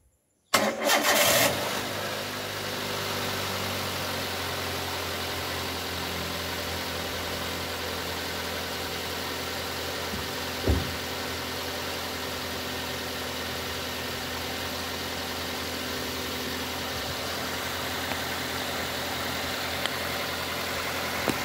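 A Toyota Avanza engine cranks and catches right at the start during an automatic transmission fluid change, then settles into a steady, even idle that runs on alone for about twenty seconds.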